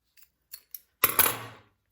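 Scissors trimming the zipper tab on a sewn bag: a few light clicks followed by a crisp, close snip of the cut with a short rustling tail.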